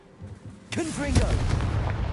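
A Confringo spell fired in the Hogwarts Legacy video game erupts into a loud explosive burst with a crackling, rumbling tail that lingers. A voice speaks briefly just before it.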